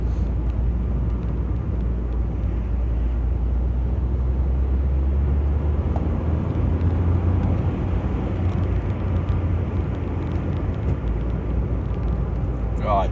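A Suzuki Swift with a P0108 manifold absolute pressure fault drives along, a steady low engine and road rumble filling the whole stretch at an even level from inside the cabin.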